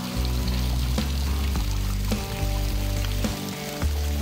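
Water streams steadily from the outlet of a built grotto waterfall, a continuous broadband rush with low rumble, close and loud throughout with no talking.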